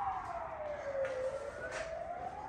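A police siren wails steadily with a rising and falling pitch, moderately loud and continuous, with no talk over it.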